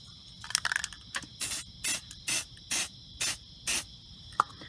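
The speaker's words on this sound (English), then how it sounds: "we're going to spray, wait 5 to 10 minutes, and then flip them and spray the back as well" Aerosol spray paint coats small shrink plastic jewelry pieces in six short, even bursts of hiss, each about a third of a second, with light handling clicks before them.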